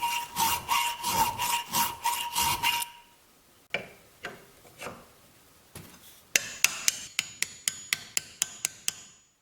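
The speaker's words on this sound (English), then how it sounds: "I want to try to file it off of this piece" Rhythmic rasping strokes of a file on a metal bolt, several quick bursts of back-and-forth scraping separated by short pauses, close and fairly loud.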